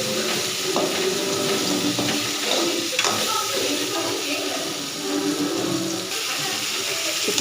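Brinjal pieces frying in hot oil in a home kitchen, a steady close sizzle running throughout with light stirring clinks and running-water-like hiss.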